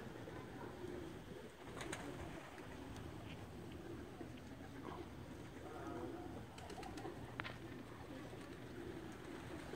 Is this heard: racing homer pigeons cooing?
yes